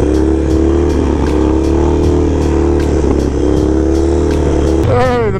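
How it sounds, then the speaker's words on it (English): Mini bike engine revving hard for wheelies at an outdoor barbecue, a loud steady drone with repeated throttle blips and a rising rev near the end, with people talking over it. "Hey, the mini bike."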